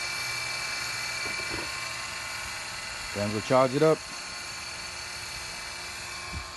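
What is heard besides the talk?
vacuum pump running on AC system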